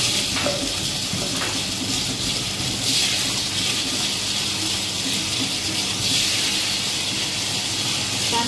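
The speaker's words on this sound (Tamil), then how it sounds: "இப்போ இதை வந்து நம்ம வந்து கிரைண்டரில் சேர்த்துக்கலாம்." A wet grinder churns soaked parboiled idli rice in a steady, continuous hiss and rumble with no pauses, loud and close throughout with no voices over it.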